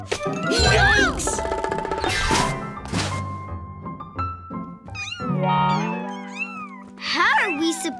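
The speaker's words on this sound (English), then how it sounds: "all these crazy kitties and their wool balls in the way" Animated cartoon kittens let out repeated meows while batting big balls of wool around, the cries stacking up loud and close amid light thumps and knocks from the rolling yarn.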